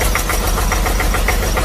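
A tractor engine, just repaired, chugs steadily with a rhythmic knocking pulse, loud and close throughout with no talking.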